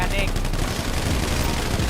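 Dense, continuous video game gunfire, rapid shots blending into a constant loud barrage with no pauses.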